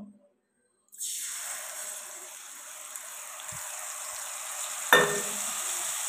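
Spice paste with dried chilli and cumin hits hot oil in a pan for a bottle gourd and prawn dish. Silence gives way to a steady, loud, close sizzle that runs on, with a brief sharper flare near the end.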